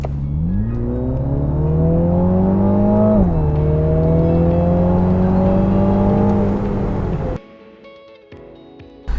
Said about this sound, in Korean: 저희가 계측할 거는 시속 40km에서 시속 100km까지 추월 가속하는데 걸리는 시간을 측정합니다